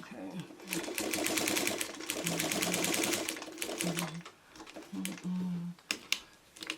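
A sewing machine stitching in the ditch on a quilted potholder, running in fast rhythmic bursts with short pauses between, close and clear, while a person speaks softly in the gaps.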